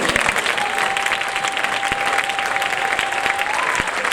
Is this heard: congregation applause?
yes